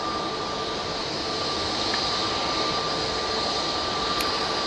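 An Airbus A320neo with Pratt & Whitney engines passes overhead near Manchester Airport, a loud continuous jet roar with a steady high whine, filling the whole stretch at even strength without voices.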